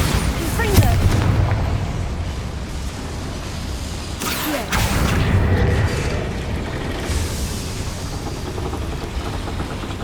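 Spell blasts from Bombarda and Confringo go off in a Hogwarts Legacy fight inside a small mine, two heavy booming bursts with a crackling tail, loud over a constant rumbling game soundscape.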